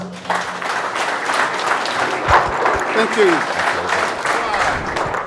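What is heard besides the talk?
applause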